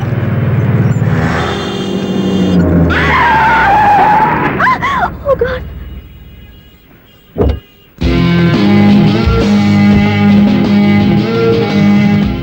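A car brakes hard on a road, its tires squealing loudly in a sustained skid before a sudden stop, followed by a brief thud and then a music-backed lull.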